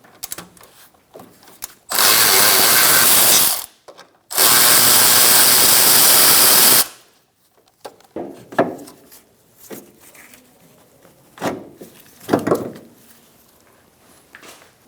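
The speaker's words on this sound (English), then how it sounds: "Using a 10mm socket, we're going to remove this bolt for this line." Two long buzzing bursts from a 10mm socket power tool on an alternator line bolt of a 2005-2010 Chrysler 300 5.7L V8, followed by scattered ratchet clicks and metallic handling, close by with no speech.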